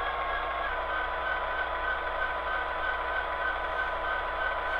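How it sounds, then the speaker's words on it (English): A model diesel locomotive's prime mover, pitch-shifted down, drones steadily at an even level throughout with no breaks or changes. "you're gonna hear that prime mover sound shift down quite a bit"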